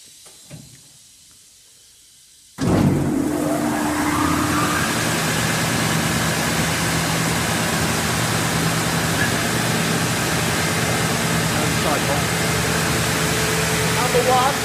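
An SCM Sandya 300RCS wide belt sander starts up after quiet, its motor and belt jumping abruptly to a loud, steady roar and hiss that carries on unchanged.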